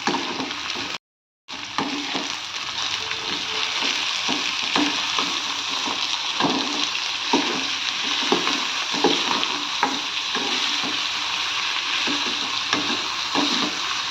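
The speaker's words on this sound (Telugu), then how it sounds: "ఇది మొత్తం దగ్గరకు అయ్యేంత వరకు ఫ్రై చేద్దామండి." Chopped onions frying in hot oil in a pan, a steady loud sizzle broken by repeated scraping stirs, close up, with a brief gap of silence near the start.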